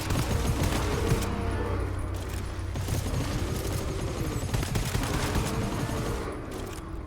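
Gunfire in GTFO, a co-op shooter, from a weapon whose silencer is failing: dense bursts of loud shots and booms fill the whole stretch, with rattling volleys over a rumbling game backdrop.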